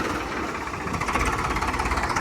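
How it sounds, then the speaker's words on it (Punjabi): A tractor engine, a Sonalika 60 RX Turbo or an Arjun 605, runs at a steady idle, a continuous close mechanical rumble with a faint rhythmic knock and no voices. "ਬਾਈ ਟਰੈਕਟਰ ਆਇਆ ਜੀ"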